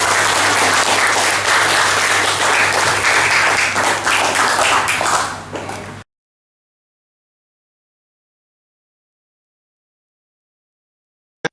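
A class of students breaks into dense, sustained applause at the end of a lesson, loud and continuous for about six seconds before it cuts to silence.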